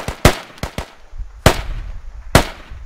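Rifle shots from the military shooter Squad crack out in a close, uneven volley, two quick pairs then two single heavy reports, each echoing briefly with no voices.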